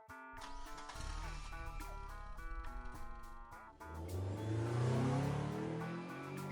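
A car picks up speed as a sound effect in a Marathi audio drama, a tonal engine hum that swells into a louder rising whir, set under a layered musical background with no speech.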